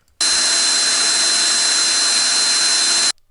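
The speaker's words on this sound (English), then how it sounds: "I'm just going to drill the hole with a 1/2 inch titanium bit." A power drill runs steadily with a 1/2 inch titanium bit, boring a hole through a van floor for sink drain tubing, a loud continuous whine lasting about three seconds and then cutting off abruptly.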